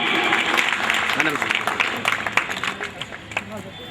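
An audience at the second-anniversary gathering of a Delhi women's organization claps to welcome the chief guest, steady applause with voices mixed in that thins out toward the end.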